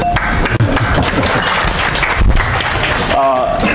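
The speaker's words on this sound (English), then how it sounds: "Clap it up for this, folks." A crowd claps and applauds steadily, a dense wash of hand claps filling the room.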